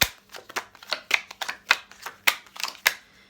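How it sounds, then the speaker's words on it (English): Tarot cards shuffled by hand, a quick run of crisp riffling bursts and soft slaps repeating about a dozen times, close and clear with no talking. "shuffled a few times just in case on camera"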